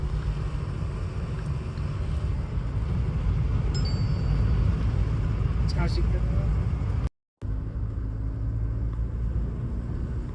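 A car driving the mountain road over the Gata Loops between Tso Moriri and Manali, heard as a constant low engine and road rumble with wind buffeting the microphone and a brief dropout partway through.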